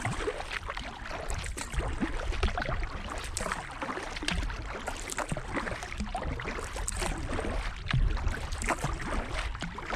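A kayak moves along the Suwannee River, with soft paddle splashes and water rush under steady wind noise, continuous and fairly close.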